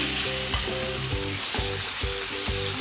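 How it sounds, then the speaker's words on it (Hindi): Marinated chicken fries in a few tablespoons of hot oil in a pan, a loud steady sizzle running throughout with a few soft clatters and shifts of the pieces. "अब मैं इसमें मैरिनेट किया हुआ चिकन ऐड करती हूँ"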